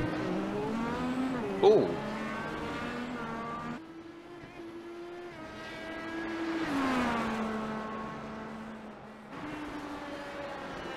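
A race car at Barber Motorsports Park runs on the track, its engine a steady droning whine that shifts pitch as it accelerates and eases off, fairly faint in the distance, with a brief exclaimed voice early on.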